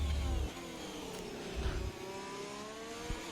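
Formula 1 Ferrari car engine in a racing video game at the British GP, a steady high whining drone with shifting pitch that rises and falls as it passes, with brief low thumps.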